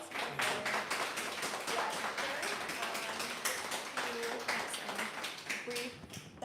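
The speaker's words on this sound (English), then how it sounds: "please join me in giving Connor and Nigel another round of applause" A room of people at a genealogy group event applauds two speakers, Connor and Nigel, with steady, dense clapping that carries on for several seconds without a break.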